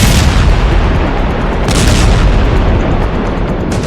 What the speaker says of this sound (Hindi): जब ये बम रात में फटता है तो ऐसा धमाका होता है